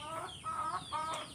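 Laying hens cluck softly in a newly built coop, a few short, close, nasal calls rising and falling in quick succession.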